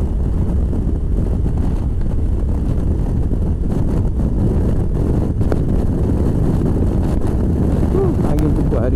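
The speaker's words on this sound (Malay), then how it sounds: "Angin kuat hari ni. Tak tahu lah audio ni tangkap ke tidak." Strong wind roars steadily across a microphone while riding on a straight road with cruise control, a loud continuous low rumble filling the whole stretch with no breaks.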